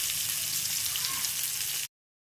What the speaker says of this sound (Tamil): இப்போது இந்த ஊறி போன மசாலா மீன் எடுத்து தவா ஃப்ரை பண்ணுறேன்